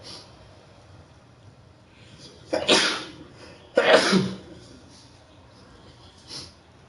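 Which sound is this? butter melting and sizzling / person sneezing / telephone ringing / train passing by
person sneezing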